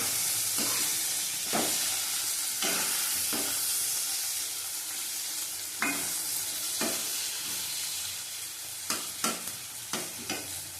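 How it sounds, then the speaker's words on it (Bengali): Eggplant pieces frying with spices in a pan give off a steady, close sizzle, broken by regular scraping strokes of a stirring spoon, with no talking. "বেগুনটা ভাজা হয়ে গেছে।"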